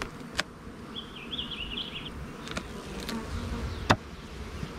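Honey bees buzz steadily around an open beehive whose frames hold nectar, with a close, wavering drone and a few sharp clicks and knocks from handling the hive.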